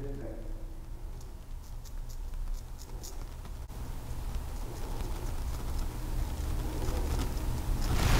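A straight razor scrapes across a sideburn in close, scratchy strokes over a steady background hiss that grows louder toward the end.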